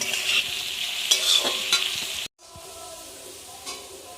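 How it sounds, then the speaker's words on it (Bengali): Sliced potato and bitter gourd sizzle steadily in a hot pan while a spatula scrapes and stirs with irregular clicks; after a brief cut the frying continues more softly. "যে আলু করলা ভাজা করলাম"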